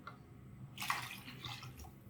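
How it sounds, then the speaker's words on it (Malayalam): Water pours into tamarind water for rasam in a home kitchen, a soft splashing rush that begins partway through and stays faint, with no talking. "ഒരു 200 ml കൂടി ഞാൻ ഒഴിക്കാൻ പോവുകയാണ്."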